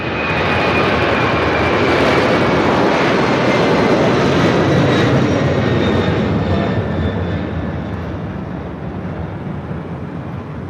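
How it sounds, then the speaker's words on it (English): A United Airlines jet airliner inbound from Brisbane lands at LAX, a loud, close engine roar with a high whine that holds steady and then slowly fades. "That is United Airlines flight 284 coming from Brisbane"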